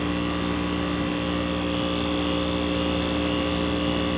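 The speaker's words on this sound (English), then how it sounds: "1996 2-ton Heil heat pump. It's got a roll compressor," A 1996 2-ton Heil heat pump with a scroll compressor runs steadily up close, a constant mechanical hum with strong tonal drone and even fan noise and no pauses.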